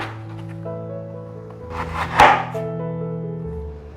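Knife slicing candied winter melon strips on a cutting board, with steady close chopping taps and a louder knock in the middle, no talk.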